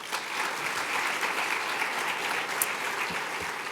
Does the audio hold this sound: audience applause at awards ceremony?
yes